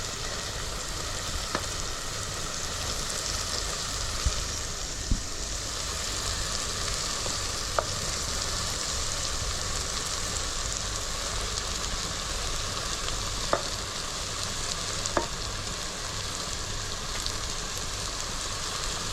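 Steady, close sizzling of jackfruit frying in hot spiced oil tempering, with occasional soft clicks and stirring sounds throughout.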